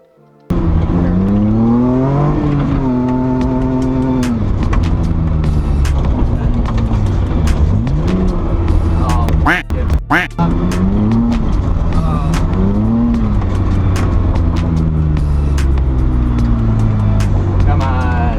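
Project car engine idling roughly and then revving in repeated rising and falling surges, loud and close throughout, with brief sharp bursts near the middle and faint voices underneath.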